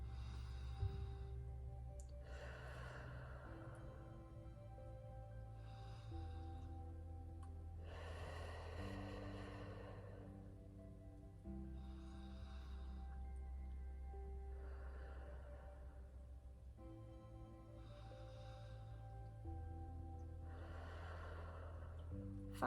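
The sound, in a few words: deep breathing exercise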